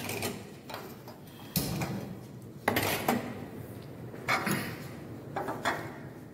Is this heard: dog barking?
no